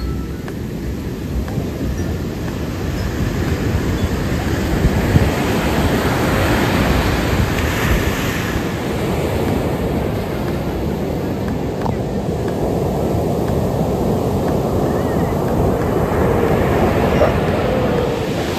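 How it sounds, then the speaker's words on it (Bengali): Sea waves roar continuously at high tide on Puri beach, Odisha, a loud, dense wash of surf with no pauses, like a constant rushing wind. "আর ঢেউ, আর সে আর কি বলবো, অসাধারণ ঢেউ, জোয়ার চলছে মনে হয়"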